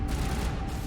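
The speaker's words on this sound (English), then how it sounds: "So that activates these cannons." Cannons powering up in the Mass Effect video game, a dense, continuous rumbling barrage with rapid crackling bursts, loud and steady for about a second with no speech.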